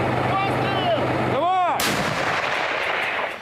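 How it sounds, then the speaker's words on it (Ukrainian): A heavy artillery gun fires a high-explosive fragmentation shell close by in darkness, a booming blast with a sharp whooshing crack and rumbling echo trailing off afterward. "Осколкові фугасні снаряди летять у темряву і є влучання"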